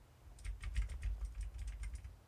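Clicky computer keyboard typed in a quick, uneven burst of close, crisp keystrokes, fairly loud against a low background hum, with no voice over it.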